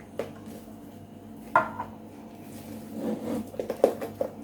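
A spoon scrapes and knocks inside a metal can of condensed milk as the last bits are pulled out, a few light clinks and scratches close by with quiet pauses between.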